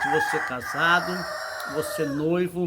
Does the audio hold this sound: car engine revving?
no